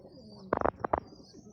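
A pair of fancy Lucky pigeons in Pakistan give a few soft, close coos in two short bursts. Quiet background hiss fills the gaps before and after.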